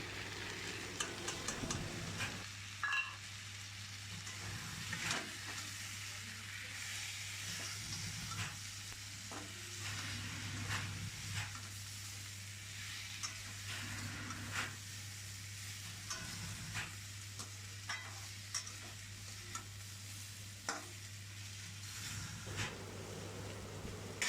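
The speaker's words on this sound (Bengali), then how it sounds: "মশলাটা দিয়ে সামান্য নাড়াচাড়া করে" Fried vegetables being stirred with chili powder, turmeric and salt in a pan, a soft continuous sizzle with repeated light scraping and tapping of the spatula, fairly quiet and close, with a low steady hum underneath.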